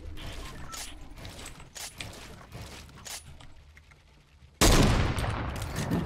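Rapid gunfire bursts in the video game Fortnite, with repeated short shots through the first few seconds and then a loud, dense blast of sustained noise near the end, heard alone without talk.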